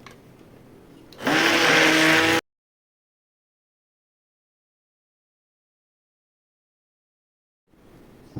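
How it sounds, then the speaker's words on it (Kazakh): A kitchen blender whirs steadily for about a second as it mixes cheesecake filling made with curd cheese, a loud close motor hum that stops abruptly, followed by a long silence. "Мен осындай блендердің көмегімен араластыратын боламын"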